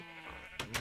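Sheep in a video game bleat twice in quick succession near the end, short close calls over a steady low ambient hum.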